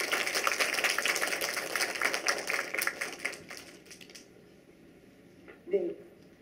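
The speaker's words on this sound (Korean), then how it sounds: "시원한 작품 하시는 두 분께 큰 박수 다시 한번 부탁드립니다." Audience applause at a floral decoration demonstration for a national skills competition, brisk clapping for about four seconds that fades out, followed by near silence and a brief sound at the end.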